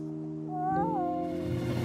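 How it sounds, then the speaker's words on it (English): A cartoon cat lets out a single drawn-out meow with a rising and falling pitch, clear and close, set over a sustained musical chord in a Bob the Builder episode. "Cat! No, Kitty, you'll get paw prints all over me."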